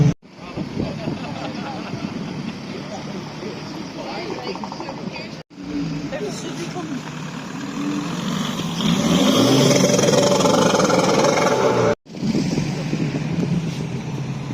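A car engine at a Portrush car meet, idling then swelling into a sustained loud rev midway before dropping off abruptly, with people chatting nearby over the engine.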